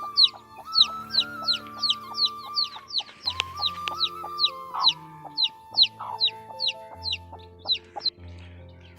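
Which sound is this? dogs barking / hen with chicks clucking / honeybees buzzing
hen with chicks clucking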